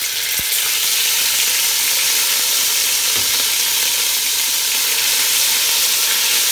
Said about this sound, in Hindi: गर्म हो चुका है साथ ही हम इसकी अदरक लहसुन की पेस्ट डाल देंगे